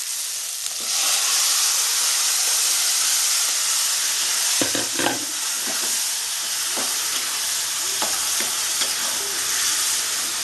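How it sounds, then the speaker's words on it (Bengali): Chopped bottle gourd (lauki) dropped into a hot pan for a Bengali prawn curry, setting off a loud steady sizzle and hiss, with a few scraping stirs and clinks partway through. "একটু নাড়াচাড়া করে আমি তরকারিটা দিয়ে দেবো আমি এবার লাউটাকে দিয়ে দেবো"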